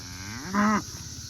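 One cow in a grazing cattle herd on pasture gives a single short, loud moo close by, over a steady outdoor background.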